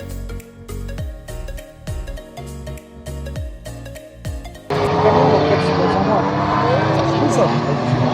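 Race cars of a Ligier JS Cup race roar past on a circuit, a loud, broad engine rush that swells in abruptly midway after a quieter stretch with rhythmic knocking and tonal hum.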